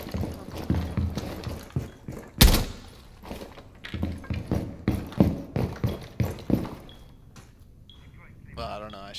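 Rapid bursts of gunfire in the tactical shooter Rainbow Six Siege, one sharp loud shot followed by a run of quick clustered shots, with players talking over and around the shooting.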